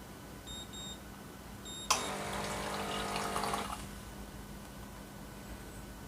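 An RM-A10 super automatic coffee machine with a dual boiler starts up: faint beeps, then a sudden burst of pumping and water rush lasting about two seconds before it drops back to a quiet hum.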